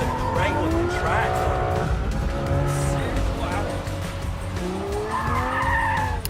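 Formula 1 car running at speed around the Circuit of the Americas, its engine loud and shifting pitch through rising and falling sweeps with tire squeal, while a person talks over it.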